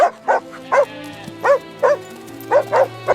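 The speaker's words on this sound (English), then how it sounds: "He sought 2 foxhound puppies whose noses were young but eager." Two foxhound puppies bark in a loud, close series of about eight sharp barks at a steady, slightly irregular rhythm, with no talk.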